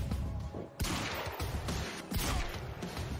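Pistol shots in the game Quantum Break, a handful of sharp, closely spaced reports with short noisy tails, fairly loud against a busy background.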